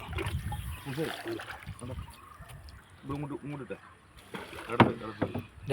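Oars dip and water splashes around a fishing rowboat being steered toward the side, with people's voices talking on and off over the sloshing.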